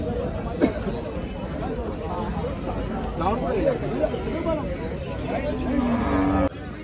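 Buffaloes mooing amid a noisy market crowd, with several low drawn-out calls rising over steady background chatter.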